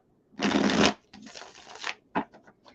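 A deck of tarot cards is shuffled by hand in three quick bursts: a loud riffle, a softer longer one, then a brief final flick, all close up with no talk.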